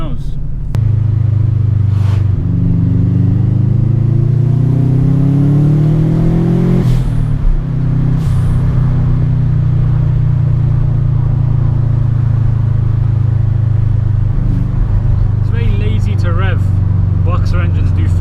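Low, steady rumble from a Subaru Impreza boxer engine with about 80,000 miles, idling near 2000 RPM while driving, with a brief rise in revs early on and constant drone throughout; someone speaks over it.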